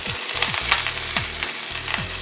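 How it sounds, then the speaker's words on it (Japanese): Wasabi greens stems, turnip leaves and turnip stir-fried in a little olive oil, a loud close sizzle with rhythmic scraping tosses about every half second, no talking. "わさび菜の茎と、カブラの、葉っぱと、カブラを少しオリーブ油で炒めます。"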